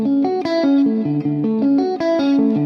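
Distorted electric guitar with effects sweep-picks a repeating chord arpeggio with a small melody on top, bright notes cascading quickly and looping about twice, close and alone.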